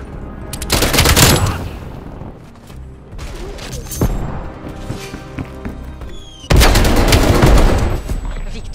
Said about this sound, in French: Tourelle automatique ennemie active.